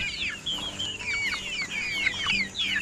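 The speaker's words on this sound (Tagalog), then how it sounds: "Nangangagaw na silang patuka." Several chickens cluck busily and overlap while fighting over feed, with sharp chirpy calls repeating throughout, close by and fairly loud, no talking.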